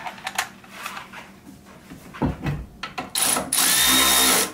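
Power tool driving a 13 mm OEM bolt during a Teraflex HD tire carrier install, with a few clicks and ratcheting handling noises before a loud, sustained whirring burst near the end.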